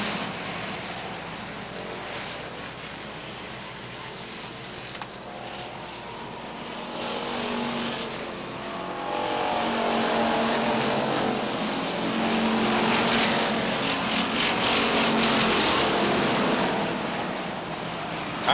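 Race cars roaring around the oval at Beech Ridge Motor Speedway during a 1991 weekly qualifying session, engine noise steady at first and swelling louder midway as the pack passes close, with no talk over it.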